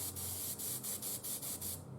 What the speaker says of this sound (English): Don't be too excited on spraying.